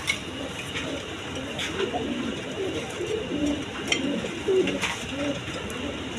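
A pair of large Indian Bombay pigeons coo softly and repeatedly at close range, over a constant background hum.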